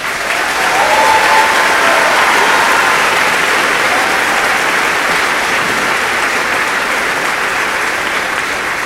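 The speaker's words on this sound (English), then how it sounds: "Please join me in recognizing these students with your applause." Audience at a 2019 Manchester University undergraduate commencement applauds graduating students, a loud, sustained wash of many hands clapping that holds steady for nearly nine seconds with no talk on top.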